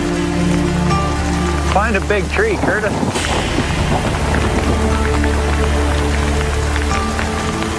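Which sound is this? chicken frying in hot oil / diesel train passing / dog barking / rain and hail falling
rain and hail falling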